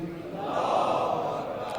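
A crowd at a Muharram gathering in a Quetta imambargah answers the takbir slogan with a loud, sustained collective chant, a dense roar of many voices rising and holding for a couple of seconds.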